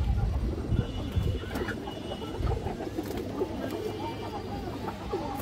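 Several pigeons at a pigeon seller's, kept in pairs, coo steadily in low, overlapping murmurs, close by, with faint voices and bustle behind them.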